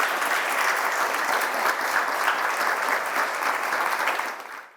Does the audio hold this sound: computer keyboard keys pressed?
no